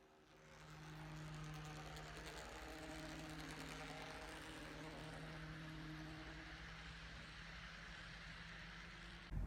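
A Walthers Mainline Plymouth ML-8 HO-scale industrial switcher locomotive with helical gears and brass flywheels runs pulling five auto carriers, a faint steady motor hum and whir that stays even, with no talk.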